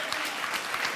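A studio audience claps in a short, dense burst of steady applause, loud and close throughout.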